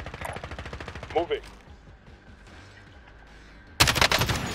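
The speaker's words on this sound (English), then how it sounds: "Sounds like someone's shooting him from my left, here, like above me." Call of Duty: Warzone gunfire: rapid automatic bursts crackle at the start, quieter shots trail through the middle, and a loud, dense volley erupts near the end, with a brief spoken word in between.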